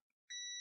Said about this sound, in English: Multimeter, continuity mode.